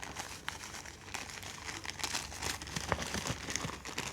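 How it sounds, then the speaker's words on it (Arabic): Table salt is poured from a bag into a sack of rice, with steady crinkling of plastic and a soft granular rustle going on close by and at low level. "بجيب كده واقوم مفضيه فيها كيس ملح كامل"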